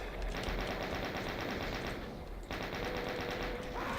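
Chaingunner enemies in the Doom wad Sunlust firing rapid continuous bursts of gunfire, dense and loud throughout with a brief break midway before the barrage resumes.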